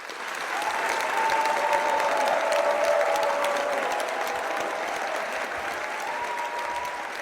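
Comedy-show audience in a mock village-chief's court applauds loudly and continuously for several seconds, with a faint crowd murmur and some cheering mixed in.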